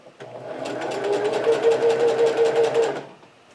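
A sewing machine stitches forward and then backward, its motor whirring up to a steady, rapid needle rhythm at close range. It runs for about three seconds, then winds down to a stop.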